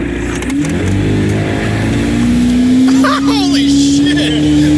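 A motorboat engine revs and accelerates while racing another boat past people tubing on the water. The engine drone rises steadily in pitch and stays loud and close, with voices shouting over it.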